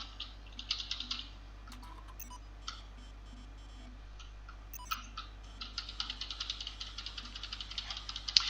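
Quick, light clicks of typing on a computer keyboard come in uneven bursts during a gaming livestream. The clicks sit close over a steady low electrical hum.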